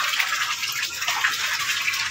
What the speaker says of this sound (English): Now it's time to add the water.